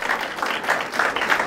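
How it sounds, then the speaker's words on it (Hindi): An audience claps at a lecture, a brief burst of dense, steady applause that fills the moment with no voice over it. "अब बजाओ ताली"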